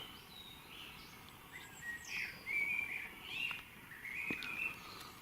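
Several birds chirp and whistle at a distance at dawn during a solar eclipse in Watchet, Somerset, over a quiet, hissing background, their calls overlapping in a loose, continuous chorus.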